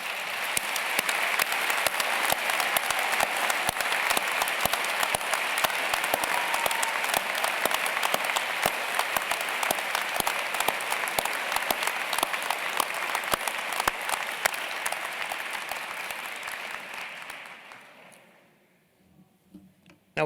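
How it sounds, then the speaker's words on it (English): Loud, sustained round of applause from a university graduation ceremony audience, dense clapping holding steady for about seventeen seconds before tapering off into near silence. "I'd like to call for a first, and I repeat, really, really loud round of applause for our graduates."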